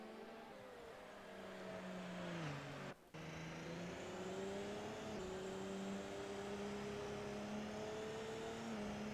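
A sim race car in Assetto Corsa roars close by at Spa-Francorchamps, engine pitch climbing steadily through the gears with a brief dropout at a shift, loud and continuous with no talk over it.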